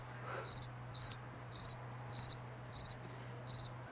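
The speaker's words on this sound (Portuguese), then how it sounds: "olha o grilo, ó." A cricket chirps in short pulsed trills, six evenly spaced bursts about every half second, clear and steady over a low constant hum.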